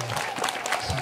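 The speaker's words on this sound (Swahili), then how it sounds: "Wapi makofi kwa mwenyekiti?" An audience claps for the chairman at a public gathering, a short burst of dense applause from a crowd with a few voices mixed in.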